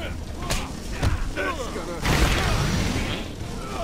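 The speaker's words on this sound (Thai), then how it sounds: "จะระเบิดออกนะฮะ" A video-game explosion in Batman: Arkham Asylum bursts out as a sudden broad boom about halfway through and rumbles on, with someone talking excitedly and earlier brief thuds.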